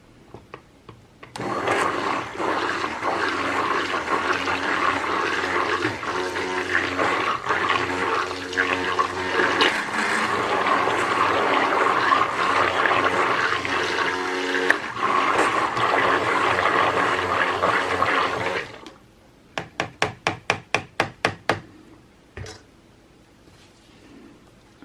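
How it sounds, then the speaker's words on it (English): A blender churns honey-scented soap dough in a loud, steady whir that runs for about seventeen seconds and then cuts off, followed by a quick series of sharp clicks and taps. "And then blend those in."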